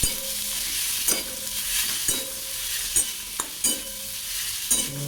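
Maggi noodles fry with onions in oil in a pan, a continuous close sizzle with regular scraping strokes of a spoon stirring roughly once a second, and no speech.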